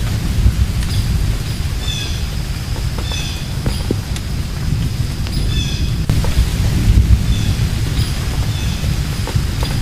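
Heavy, continuous rain from a Category 4 hurricane roars steadily with a dense low rumble, loud and close throughout.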